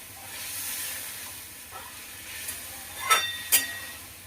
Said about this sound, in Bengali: এইভাবে এটা একটু ফুটে যাবে।